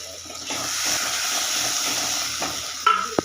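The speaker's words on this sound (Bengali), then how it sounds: "কাঁচা লঙ্কা বাটাটাও দিয়ে এটাকে ভালো করে মশলাটা আমি কষে নেব" Spice paste with ground green chilli fries in a pan for curd katla fish curry, a steady hissing sizzle stirred at close range, ending with a couple of sharp knocks against the pan and no talk.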